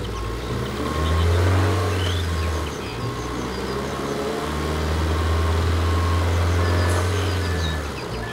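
A toy green off-road jeep gives a steady car-engine drone with a rev-like swell in the first few seconds, then a sustained hum that dips briefly near the three-second mark before continuing loud and close to the end.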